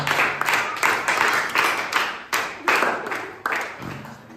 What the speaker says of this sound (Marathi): साक्षीसाठी एकदा जोरदार टाळ्या हो द्या